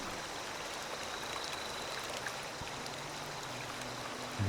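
Steady flowing water in Fallout 76, a continuous stream-like rush with faint droplet patter, even and unbroken throughout with no voices.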